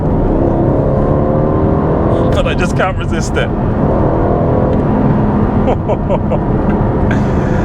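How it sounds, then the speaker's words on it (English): An Aston Martin Vantage V8 with an AMG bi-turbo engine accelerates loudly from the cabin, its engine roar rising and falling continuously while someone talks over it. "that is just a quick teaser of the new Aston Martin Vantage V8 with the AMG bi-turbo engine"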